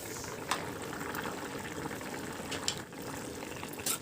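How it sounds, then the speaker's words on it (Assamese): Assamese fish curry simmers in a covered pot, giving a soft steady bubbling hiss with small pops, faint and close, with no voices. "ভালদৰে বইল হ'বলৈ দিম, ঢাকি থৈ দিম"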